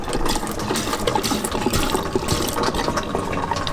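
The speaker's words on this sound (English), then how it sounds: "And you can hear our gray water" Gray water gurgles and trickles steadily through a hose from a hand pump in a Mercedes Sprinter van conversion, a soft continuous flow with faint bubbling, no voices.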